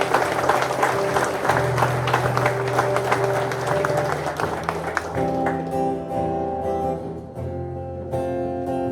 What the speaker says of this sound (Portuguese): dê o mais forte aplauso a Ele agora